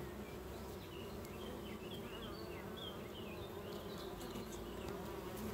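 Honeybee drones and workers buzz steadily inside an open hive, a dense, continuous drone with individual bees whining past close by, no talking.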